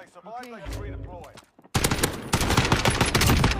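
FAL rifle fire in Warzone erupts as loud, rapid bursts of close shots after a short stretch of someone talking, then continues hard and dense to the end.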